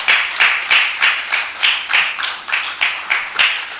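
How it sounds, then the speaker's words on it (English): A small audience at a cybersecurity conference panel session claps for guests being introduced, the claps bunched into regular bursts about every third of a second, steady and fairly close, with no talking over it. "Can we please give them a round of applause as I call them out?"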